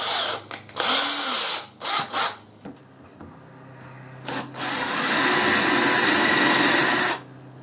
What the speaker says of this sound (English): Now I want to just counter drill it for the screws.